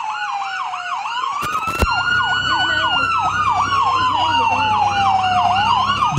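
An ambulance siren from a ProMed unit rolling in a town parade wails loudly and steadily, its repeating yelp-like sweeps cycling fast over the engine, with a brief sharp burst near the start.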